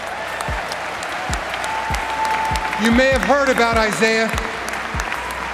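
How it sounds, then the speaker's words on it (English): Applause and crowd noise from the audience at the Barclays Center on NBA draft night, a broad, continuous roar of clapping that swells midway, running under a narrator's voice throughout. "The Barclays Center erupted with applause."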